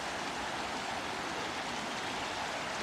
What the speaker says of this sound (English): I think it's the River Gaunless.